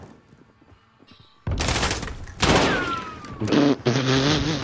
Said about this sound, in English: We got a whole team here, just shooting each other